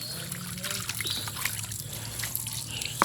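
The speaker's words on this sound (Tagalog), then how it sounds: "Hugasan ko yung mga pagkainan nila ba." Water trickles and splashes while chicken feeding dishes are washed by hand, a close, continuous light pouring with small clinks and faint voices in the background.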